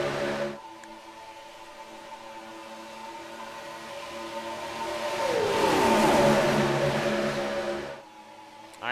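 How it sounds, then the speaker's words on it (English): NASCAR race car engines from the iRacing video game at Talladega drone steadily, then a louder car sweeps past with a falling pitch before the sound cuts out; no talk. "I promise these cars sound a lot better at super speedways than they do right now for the iRacing issues."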